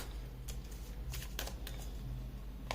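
Tarot cards being shuffled by hand, a run of soft papery riffles and snaps coming in short bursts over a low steady background hum, close and fairly quiet.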